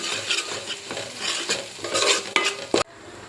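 Masala paste for chole curry frying and being stirred in a pan, a steady close sizzle with scraping stir strokes throughout, ending in a sharp clatter before sudden quiet.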